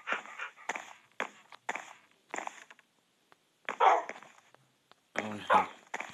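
Several dogs in a Minecraft Pocket Edition world bark in short, separate yaps spaced across a few seconds, fairly close, with a louder cluster of barks near the end.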